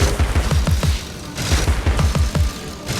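Rapid, loud, rhythmic shooting of pepper at an enemy in a PC video game, dense repeated thumping pops in quick succession with brief pauses, no talk.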